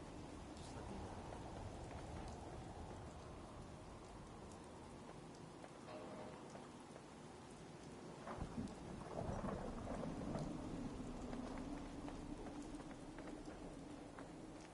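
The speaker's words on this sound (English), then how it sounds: "Hope this rain lets up soon." Steady rain and a low rolling thunderstorm in the video game Fallout 4, a constant soft patter with a deep thunder rumble swelling midway, faint and distant, with no voices.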